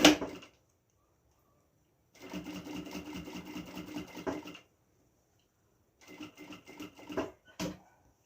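Sewing machine stitching bias binding around the rounded corner of a sublimated document holder, running in two steady bursts with a pause between, ending in a few short, slow stitches.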